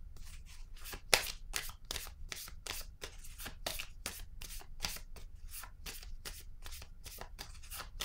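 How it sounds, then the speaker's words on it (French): Tarot cards being shuffled by hand in a steady run of rapid riffling bursts, close and crisp, with one sharper snap early on and no talking. "Attendez, je vais piger une autre carte."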